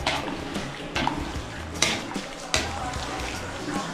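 A spoon stirs food in a cooking pot, giving scraping clinks and knocks at irregular intervals, close and moderately quiet, with faint watery sounds and a person talking nearby.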